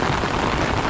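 Rain pours at Kota Tinggi Waterfalls in Johor, a dense, loud, continuous hiss of water close to the microphone with no break.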